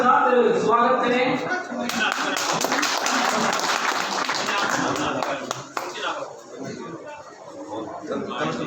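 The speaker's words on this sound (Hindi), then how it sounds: "तो साथियों तालियों के साथ स्वागत करें।" Crowd at a political rally in Indri clapping in welcome, a steady dense patter running for several seconds with voices over it, thinning out toward the end.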